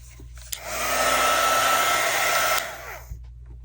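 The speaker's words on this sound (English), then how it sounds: "I'm going to take my heat tool." A handheld craft heat tool blows hot air in a steady, close whoosh for about two seconds, switching on and off cleanly in an otherwise quiet room.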